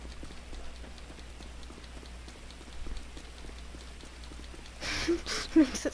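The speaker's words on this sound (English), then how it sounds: "Oh great, it's raining." Steady rainfall in Grand Theft Auto V, a continuous soft patter throughout with a faint low hum beneath and a few louder knocks near the end.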